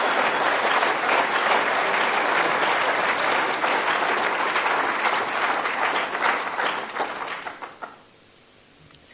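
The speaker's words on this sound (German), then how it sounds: "Sie klatschen" A crowd claps at an AfD political rally, dense loud applause sustained for several seconds that thins out and fades to near silence toward the end.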